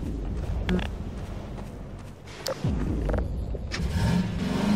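A car in Half-Life 2 drives and reverses, its engine droning steadily with rising revs, a brief dip and then a fresh surge of throttle, plus scattered mechanical clunks and squeaks.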